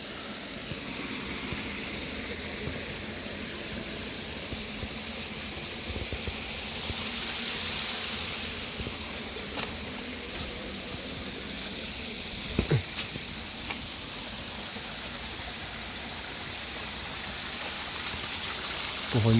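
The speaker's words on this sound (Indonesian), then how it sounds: "Ini sepertinya sungai." A small river in a forest, flowing as a constant broad rush of water. It stays even and moderately loud throughout, with a couple of brief knocks partway through.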